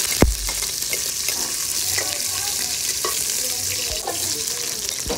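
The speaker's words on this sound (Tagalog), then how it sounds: "gigisa lang po natin yung bawang po natin." Garlic sautés in a hot pan with a loud, dense sizzle that carries on throughout, opened by a sharp metal clank and dotted with spatula scrapes.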